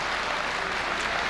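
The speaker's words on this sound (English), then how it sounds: "The crowd going wild," A crowd at a 1988 chess blitz tournament applauds steadily, a dense, even wash of clapping that carries on without a break, with no clear voices.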